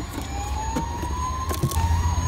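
Toy ambulance siren from Bruder vehicles during children's rescue play, a thin wailing tone rising steadily over a short stretch, moderately loud and close with light rattling handling noise.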